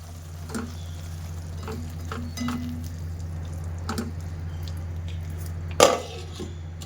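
Tindora sabji stirred in a pan after water is added, giving a low steady simmering hiss with faint scraping touches and one sharp clink of the spoon near the end.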